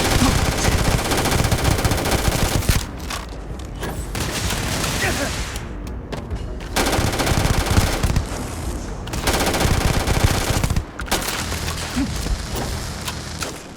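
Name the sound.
automatic gunfire in Starfield video game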